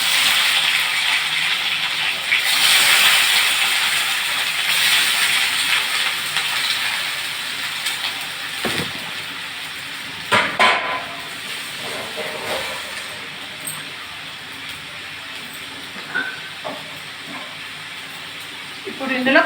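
Chicken pieces for chicken masala curry going into hot oil in a pan, giving a steady loud hiss and sizzle with occasional crackles and clinks as the frying settles.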